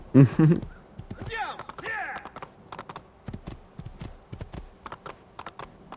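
Horse hooves clip-clopping along a countryside road in Assassin's Creed 2, a steady rhythmic patter of hoofbeats at moderate level with someone talking over the opening part.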